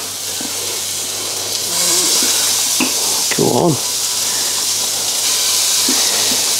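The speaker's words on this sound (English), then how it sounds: "Can you hear that sizzling?" Homemade smash burgers sizzle on a hot surface, a steady broad hiss running through the whole clip, with a short spoken remark and brief background noises over it.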